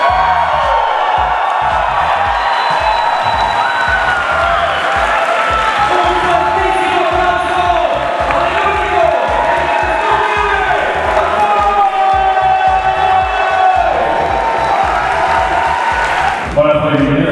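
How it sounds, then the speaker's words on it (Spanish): A large audience at the Confuror 2024 convention erupts in explosive applause, cheering and whoops, loud and sustained across the whole stretch, with voices shouting over the clapping. "Cuando terminó, la gente le aplaudió de manera explosiva"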